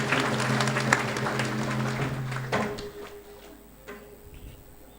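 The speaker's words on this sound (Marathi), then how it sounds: "टाळ्या वाजून आशीर्वाद द्यायचा." An audience claps together as a blessing at a Marathi religious discourse honouring Shri Datta Maharaj. The dense applause runs for about two and a half seconds, then thins into a few scattered claps.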